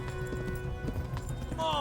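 Horse hooves clip-clop at a steady gallop beneath urgent shouting in a medieval village escape scene from the game Kingdom Come: Deliverance.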